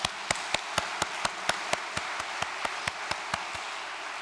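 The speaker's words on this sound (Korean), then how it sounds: "언제 들어도 큰 은혜를 주는 천심 성가대에 큰 박수 부탁드립니다." Clapping for a church choir at a Korean worship service, heard as a steady, evenly spaced rhythm of sharp claps, about four per second, moderately distant with no talking over it.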